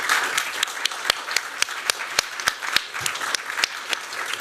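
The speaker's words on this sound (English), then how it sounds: "Can we give them another round of applause" An audience at a design conference gives a round of applause, dense close clapping with sharp individual claps standing out, steady throughout.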